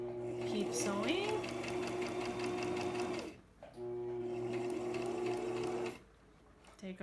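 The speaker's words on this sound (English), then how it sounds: "So now let's just sew this seam." A sewing machine stitches a seam on a zippered fabric pouch in two steady runs of rapid mechanical whirring, separated by a short pause, with someone talking over the motor.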